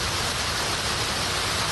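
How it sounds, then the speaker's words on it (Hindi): Steady rain falls across a city in Sindh, making a continuous, even hiss of light to heavy rainfall with no voices. "हल्की और तेज बारिश से मौसम खुशगवार हो गया।"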